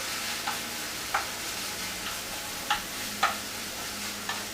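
Vegetables with celery and carrot being stirred in a soup pot give a soft steady sizzle, with a handful of brief scraping taps from the spoon spaced irregularly, fairly quiet and close.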